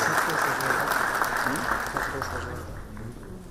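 An audience at a technology and productivity fair applauds as a minister comes to the stage, the clapping loud at first and then slowly fading over a few seconds.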